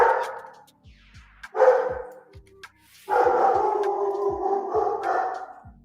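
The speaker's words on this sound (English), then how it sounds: "Listen to this dog, man. It's a mean-sounded dog" An angry, mean-sounding dog barks and howls nearby, loud drawn-out bursts with short gaps, ending in a long sustained growling howl.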